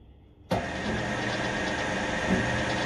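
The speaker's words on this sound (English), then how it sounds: "We then turn on the lathe." A metal lathe fitted with a knurling tool switches on with an abrupt start after a quiet half-second. It then runs at a steady, close motor hum and mechanical whir with no talking.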